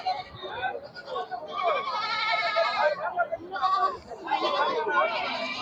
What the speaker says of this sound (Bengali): অসংখ্য ছাগল রয়েছে আমাদের এই হাটে